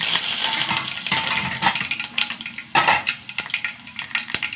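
Mustard seeds, urad dal and dried red chillies frying in hot oil, with crackling sizzle, spluttering pops and sharp clinks of a spoon stirring against the pan, close and fairly loud, no talk.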